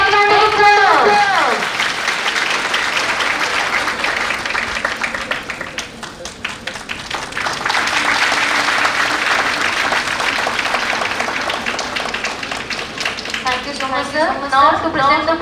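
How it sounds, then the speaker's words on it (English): Audience applause at the 14th India Japan Fest BICON 2019, a dense, loud burst of clapping that swells and holds for about fifteen seconds, with a speaking voice briefly heard at the start and end. "Please give him a big round of applause."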